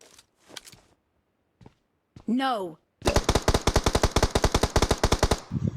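Gunfire from the battle royale game BGMI: after a few scattered quiet sounds and a short voiced sound, a loud, rapid burst of automatic fire rattles off in quick, evenly spaced shots for almost three seconds.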